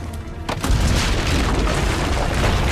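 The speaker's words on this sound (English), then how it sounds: "Use the cannons above the rampart." Heavy cannon fire booms in an Assassin's Creed Brotherhood battle, a loud low blast with a sharp onset followed by a sustained rumbling roar from near.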